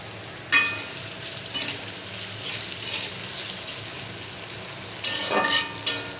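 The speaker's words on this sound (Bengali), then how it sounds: "ভাজার তেলটা আমি কড়াইতে নিয়েছি এবং পর্যাপ্ত পরিমাণে পেঁয়াজ কুচি দিচ্ছি" Chopped onions fry in oil in a kadai, giving a low background sizzle broken by a few sharp bursts of stirring and scraping.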